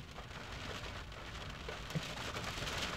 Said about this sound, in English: In this rain.